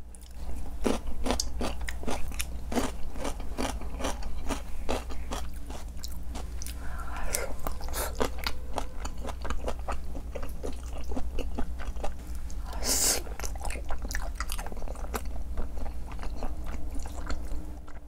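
Someone eats spicy rosé chicken feet and a cheese ball up close, producing steady rhythmic crunching, biting and wet chewing over a constant low hum, with a sharper crunch burst partway through.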